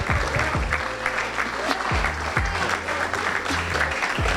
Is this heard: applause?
yes